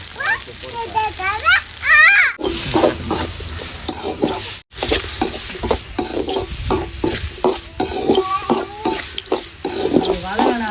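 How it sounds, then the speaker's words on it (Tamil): Onions and tomato sautéing for a duck curry in a home kitchen, with sizzling and steady spoon stirring against the pan in repeated scrapes; a voice speaks briefly near the start, and a short gap breaks the sound midway. "சரி வெங்காயம் நல்லா வதங்கிச்சு இது கூட வந்து நான் வந்து தக்காளி போட்டுக்கிறேன்"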